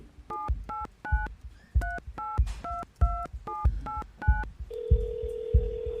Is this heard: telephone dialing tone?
yes